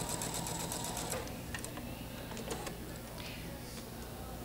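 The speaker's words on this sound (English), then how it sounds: "Stick it underneath there and do another complete seam." A sewing machine stitches a quilt seam without pins, quick runs of needle clatter near at hand and fairly soft, easing into lighter ticking.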